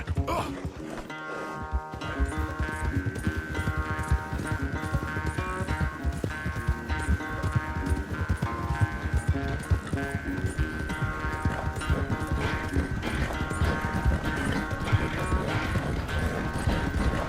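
A horse gallops in Red Dead Redemption 2, its rapid rhythmic hoofbeats running steadily and close under a game music bed, with a brief voice near the start.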